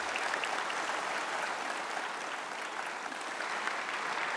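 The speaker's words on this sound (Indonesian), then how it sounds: "Tio Pakusadewo, sekali lagi tepuk tangan dong untuk aktor senior kota." An audience at a televised talk show event applauds for a senior actor, a dense, continuous clapping that stays loud and even throughout, with no speech over it.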